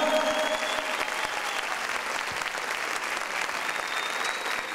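An audience in a hall applauds darbuka player Sercan, a dense, steady burst of clapping that holds evenly for several seconds before tapering slightly, with no voices standing out.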